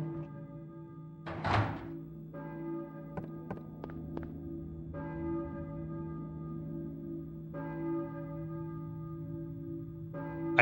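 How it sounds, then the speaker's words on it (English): A church bell tolls in the survival horror game Silent Hill, several resonant strikes with long ringing decays, spaced irregularly amid soft thunks and taps in a quiet setting. "I hear a church bell."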